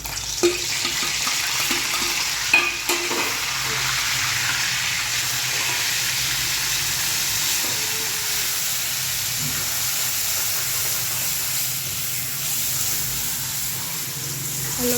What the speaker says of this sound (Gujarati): હવે શાક બનાવવા માંડ્યા છે અને ડુંગળી ટમેટાનો વઘાર કરે છે